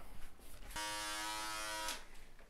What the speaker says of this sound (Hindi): आप देख सकते हैं कि हम ट्रिमर यूज कर रहे हैं